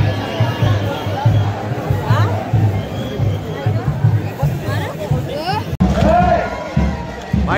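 Dense crowd bustle outside Ekvira temple: a steady babble of many overlapping voices, shuffling and movement close by, with a sharp knock near the end and a louder surge of chatter afterward.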